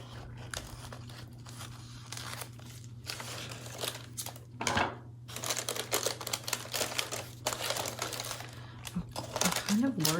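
Scissors cutting paper for a junk journal with fall leaves, a run of crisp snips and crinkles through the whole stretch, close and fairly quiet over a steady low hum, with a faint voice at times.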